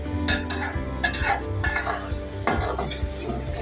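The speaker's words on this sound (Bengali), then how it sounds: "ভাজিটা হয়ে গেছে, এভাবে ম্যাশ করে নেবেন" Cooked labra bhaji, a Bengali mixed vegetable fry finished with panch phoron, being mashed in a pan, with repeated scraping and clinking of a utensil against metal, close and steady.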